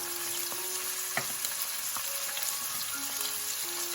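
Garlic, chili pepper, cumin and bay leaves sauté in a pan for a vegan split pea soup, giving a steady close sizzle broken by a few soft stirring clicks, with no voices.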